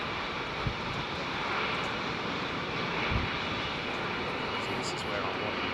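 Airliner powered by big GE9X jet engines at Heathrow Airport, a continuous heavy roar filling the air, with a couple of sharp thuds partway through and a person talking faintly over it.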